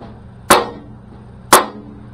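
Two sharp, solid dead blow hammer taps on the metal door skin of a 1966 Mustang, evenly spaced about a second apart, each a brief thud with a short decay.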